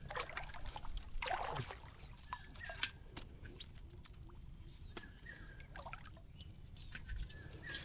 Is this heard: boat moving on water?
yes